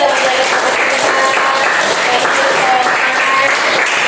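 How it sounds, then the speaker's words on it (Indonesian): A classroom of students clapping together, a loud, continuous patter of hands with a few voices chattering and calling out underneath. "Oh iya, boleh tepuk tangan untuk semuanya."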